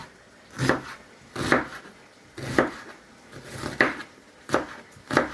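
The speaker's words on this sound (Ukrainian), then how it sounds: "Нарізаємо цибулю. Ось тут кілограмчик цибулі." A knife chops through onions, about a kilogram of them, on a cutting board. Single crisp chops fall roughly once a second, close and clear, with quiet gaps between them.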